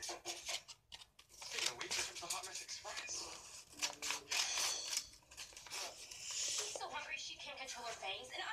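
Scissors snipping the corners of paper or card for a DIY craft, several crisp cuts and rustling handling sounds up close, mixed with a person talking.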